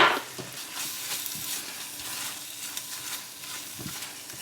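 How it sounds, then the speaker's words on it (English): Passata sauce frying in a pan, a steady bright sizzle with soft occasional stirring scrapes, close and fairly quiet, with no talking. "But I'll just fry that for a little bit longer, just so that funny taste of the passata disappears"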